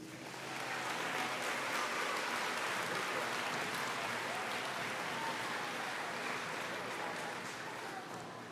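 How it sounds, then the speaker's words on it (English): Steady, dense applause from an audience at an elementary school awards day, swelling in quickly and holding as a soft, even wash of clapping at moderate distance. "One more round of applause, please, for our winners."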